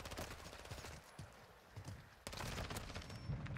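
Rapid bursts of automatic gunfire ring out during a one-on-one gunfight in Call of Duty: Modern Warfare II, loud and close, with a brief lull in the middle before heavier sustained firing resumes.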